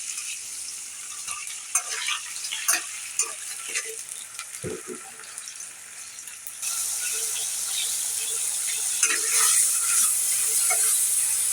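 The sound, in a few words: shrimp frying lightly with onion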